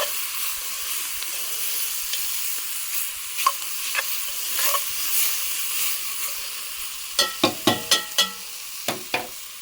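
Food for beef bourguignon sizzles and hisses steadily in a hot pan, up close. Near the end a burst of sharp stirring scrapes and clatters rises over the frying.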